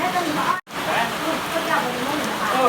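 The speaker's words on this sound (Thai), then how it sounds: "เนี่ฝนตกหน่อย" Rain falls in a steady, close hiss, briefly cut out once near the start, with a person talking over it.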